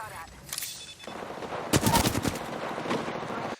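Gunfire in the video game Apex Legends: rapid automatic bursts, some distant and one louder close volley in the middle, with a voice talking faintly underneath.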